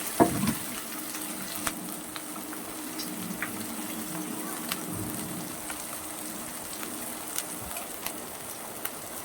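Chopped garlic frying lightly in a pan while prawns and banana flower cook, giving a steady, faint sizzling hiss with a few soft pops and no talking.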